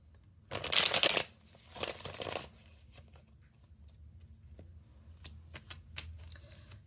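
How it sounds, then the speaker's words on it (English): Tarot cards shuffled nearby, two bursts of rustling riffle followed by quieter scattered flicks and taps of cards being squared, no voices. "I'm going to do one more shuffle here."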